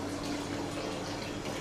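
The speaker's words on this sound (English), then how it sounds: "just pour more water in there," Water is poured into a jar of wheat berries to start a fresh batch of Rejuvelac, a faint, steady splashing trickle close by with no voices.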